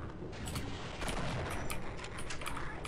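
Gunfire in Half-Life, a faint, distant clatter of shots and muffled blasts rattling along at low level, with no speech.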